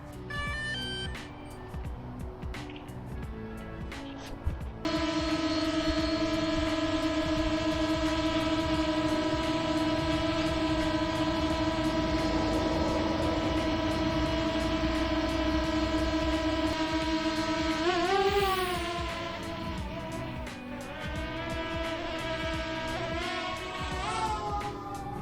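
A DJI Mavic Air drone fitted with Master Airscrew propellers spins up after a few quiet seconds into a steady, buzzing whine, then shifts pitch up and down as it maneuvers, with no speech.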